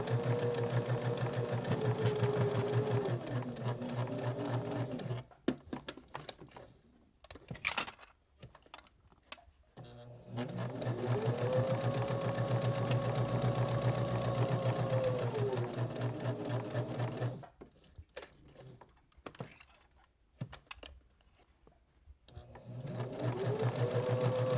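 Sewing machine stitches fabric for a luggage tag holder in long steady runs of rapid buzzing, pausing while the fabric is turned at corners, close and clear, with a voice speaking during the pauses.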